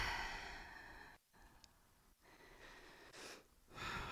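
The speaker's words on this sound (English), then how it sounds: "Exhale through your mouth." Soft, quiet breaths are pushed out through the mouth during a yoga breathing exercise: a few gentle, airy exhales with brief silent pauses between them, heard close and alone.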